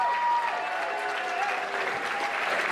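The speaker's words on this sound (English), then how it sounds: "let's hear a round of applause for the fantastic Mister Lobo" An audience at Blobfest 2014 applauds steadily and fairly loudly for a guest named Mister Lobo, with a dense wash of clapping and faint tonal sounds underneath.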